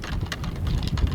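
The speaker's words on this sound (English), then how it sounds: "It's way too windy." Strong outdoor wind in a roughly 40 mph gust during a deer hunt, buffeting the microphone with a low rumbling roar and uneven puffs, close and continuous with no clear voices.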